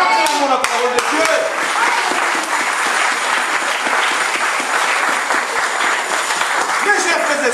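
A church congregation applauds during a sermon, steady crowd clapping that fills the space throughout, with voices calling out over it.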